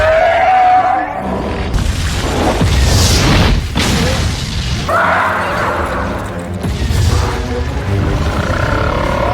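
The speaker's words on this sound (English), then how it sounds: "the general detonates explosives" Explosives detonating at a cavern opening in a sci-fi alien film, heavy booming blasts and rumbling roars rolling through the scene, several loud bursts across the clip with sustained low rumble between them.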